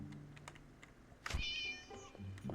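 A cursed doll in a video game lets out a cat's meow, a single drawn-out whiny cry in the middle, set against faint keyboard clicking and quiet background noise.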